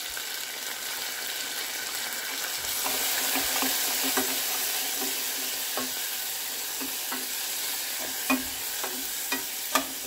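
Onions, green chilies and ginger paste frying in a pan, a constant close sizzle with occasional stirring clicks and scrapes, no speech.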